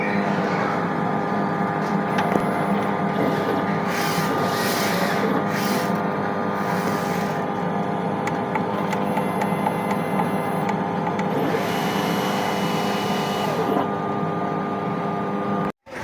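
An inkjet printer runs a print head nozzle test, giving a steady mechanical hum with intermittent whirs and clicks over about sixteen seconds, ending in an abrupt stop.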